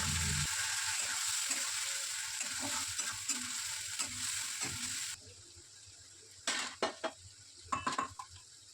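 Onions fried golden with spices added in a pan give a steady close sizzle, with stirring and clinks of a utensil against the pan; the sizzle drops lower partway through, followed by a few sharp scraping knocks.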